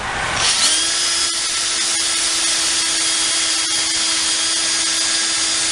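A handheld power drill whines steadily at close range, its motor holding one even pitch for several seconds with a faint grinding of the bit underneath.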